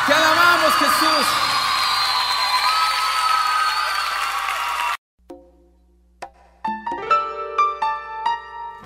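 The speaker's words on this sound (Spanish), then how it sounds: "dale un fuerte aplauso al Rey de la Gloria" A church congregation claps loudly in worship for about five seconds, dense and sustained alongside music and voices, then cuts off as a soft instrumental passage begins.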